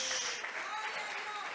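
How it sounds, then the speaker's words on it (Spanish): Church congregation applauding in praise during a service, a steady, dense wash of clapping hands with some voices mixed in. "Dele palmas de alabanza, amados hermanos."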